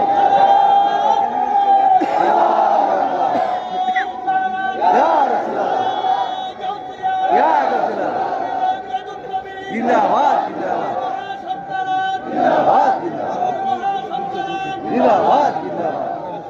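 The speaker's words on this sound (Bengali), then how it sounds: "হাত তুলে স্লোগান লাগান" A large crowd at a Bangladeshi religious sermon gathering chants protest slogans in loud, rhythmic bursts that repeat every couple of seconds. Voices roar together at close range and fill the space.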